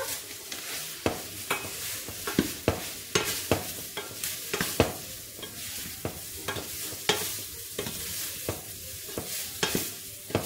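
Chopped onion fries in a pan with a continuous sizzle, broken by repeated sharp scrapes and knocks of a utensil stirring at an uneven, roughly one-per-second pace, close and clear with no talking.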